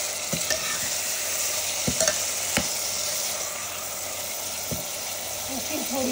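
Half-cooked onion and tomato fry in a pan for South Indian crab masala, a continuous close sizzle broken by sharp spoon scrapes and knocks as the mixture is stirred.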